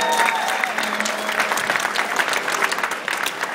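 An audience applauds after a live band performance at an event, a dense, steady crackle of many clapping hands that continues evenly throughout.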